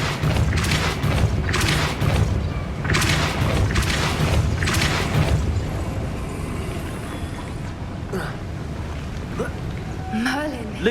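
In Hogwarts Legacy, the Depulso spell is cast as a rapid series of heavy, booming blasts. Loud, dense bursts repeat over the first half, then fade into quieter game ambience with a few whooshing accents.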